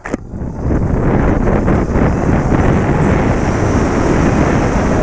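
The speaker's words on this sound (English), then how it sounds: "All right, here we go out onto the highway in sport mode." A 2017 Zero SR ZF13.0 electric motorcycle accelerating onto a highway in sport mode, heard mostly as loud, steady roaring wind rush across the microphone that builds in the first second and then holds.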